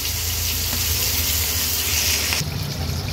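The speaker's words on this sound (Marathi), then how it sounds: "तुकडी तव्यात टाकल्यावर गॅसची फ्लेम आपण लो टू मीडियमवर ठेवून एक बाजू फ्राय करून" Rawas fish pieces fry on a hot tawa over low to medium flame, giving a steady, close sizzle that continues throughout with a slight drop in level near the end.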